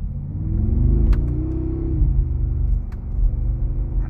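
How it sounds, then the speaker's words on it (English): A 2019 Mercedes-AMG G63 Edition 1 G-Wagon held in first gear gives a loud, close, deep exhaust grumble that swells and settles in steady pulses, with a brief rev rise near the start. "that grumble is purely distinctively G-Wagon"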